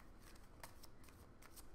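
Oracle cards being shuffled by hand, a run of soft, quick riffling flutters close by, fairly quiet, with no talking.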